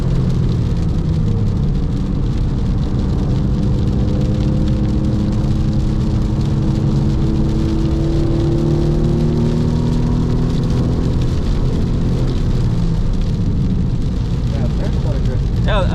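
A Porsche 996 racing on a wet Zandvoort GP circuit, engine droning steadily with rising and falling revs over a constant wash of rain and road spray, continuous and loud throughout, with occasional voices in the car.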